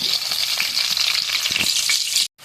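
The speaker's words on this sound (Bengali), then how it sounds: "আলুটা আমি হালকা ভেজে নিলাম" Potatoes frying lightly in hot oil for hilsa biryani give a loud, steady sizzle with occasional stir clicks. The sizzle stops abruptly near the end, then resumes faintly.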